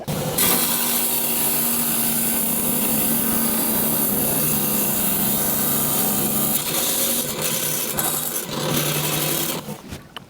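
A rock saw cuts through a clamped piece of gold ore, giving a steady, loud grinding whine that holds evenly for about ten seconds before briefly dropping off near the end.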